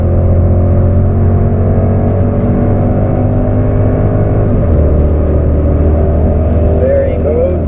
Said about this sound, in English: About to wide open throttle again.